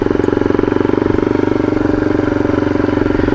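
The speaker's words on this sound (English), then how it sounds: "A lot of loose pebbles there. It's sort of like riding on pebbles." Motorcycle riding a loose-pebble dirt forest road near Suches, Georgia, its engine droning loudly and steadily at close range with a fast regular pulse throughout, no speech.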